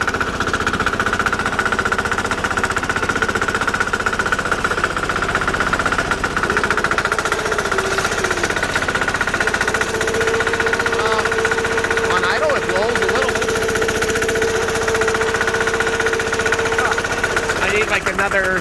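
Diesel Sears Bolens garden tractor engine labors under load in the snow, a loud steady knocking drone that runs unbroken throughout at close range.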